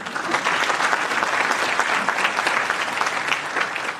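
Audience applause at a Gita Deepotsav gathering, a dense, loud burst of clapping from many hands that holds steady for several seconds without any speech.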